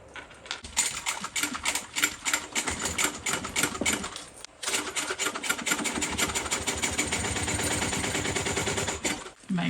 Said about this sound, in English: I'm going to have to sew this one from the bottom up.